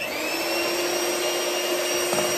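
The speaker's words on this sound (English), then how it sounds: "I'm gonna use my mixer here, my hand mixer here" Electric hand mixer whipping heavy cream for homemade vanilla ice cream, a steady loud motor whine with a constant high hum throughout, close up and alone.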